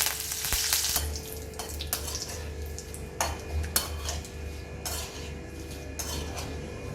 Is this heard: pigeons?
no